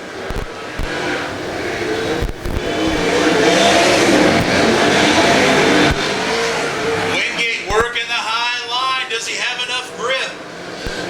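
Open-wheel race cars roar around a speedway, engines loud and sustained before thinning into revving passes as the field goes by, with announcer commentary running over the noise.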